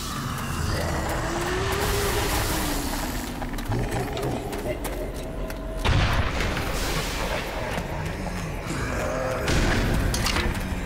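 Rocket explosions in Black Mesa: Xen, a series of loud booms over constant rumbling game noise, with someone talking throughout.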